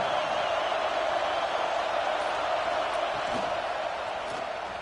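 Simulated stadium crowd in College Football 26 during an Eastern Michigan at Penn State game, a steady, dense roar of fans that stays loud and unbroken throughout, with no distinct cheers rising above the wash.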